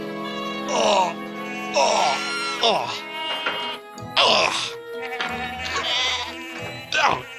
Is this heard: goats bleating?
yes